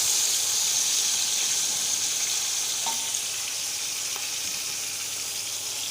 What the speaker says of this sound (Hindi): थोड़ी देर इसको फ्राई करेंगे 2 से 3 मिनट के लिए।